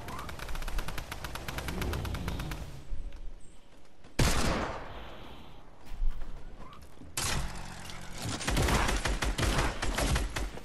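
Rapid bursts of gunfire from a proximity launcher in a video game, dense repeated shots in three loud clusters separated by brief gaps, with heavy low thumps and explosive crackle.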